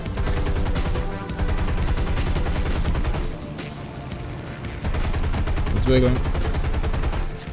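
Rapid automatic gunfire from the War Thunder combat game, loud continuous bursts that run almost the whole time with brief pauses, while a player talks over it.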